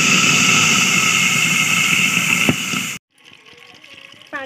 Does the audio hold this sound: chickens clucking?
no